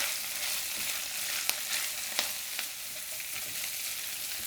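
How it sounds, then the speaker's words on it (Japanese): Napa cabbage stems stir-fried in a pan, a steady soft sizzle with a few light clicks of the utensil, quiet and continuous with no voices. "まず芯の方を加えてさっと炒めます。"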